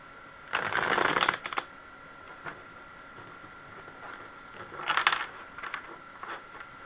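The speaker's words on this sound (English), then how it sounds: "Let me shuffle the cards quickly" Tarot cards are shuffled in two quick riffling bursts, with a few soft taps and flicks of cards in between, close and otherwise quiet.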